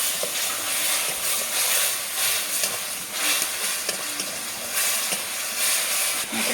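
Spiced tomato masala sizzles in a pan as water goes in, a steady broad hiss with steamy bubbling that holds fairly loud throughout, swelling in a few bursts.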